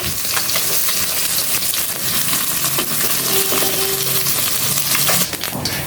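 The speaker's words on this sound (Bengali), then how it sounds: "আমি মাছটা একটু কড়া করেই ভাজবো" Loud, dense sizzling of fish frying in oil, close up, with occasional crackles and a brief scrape near the end.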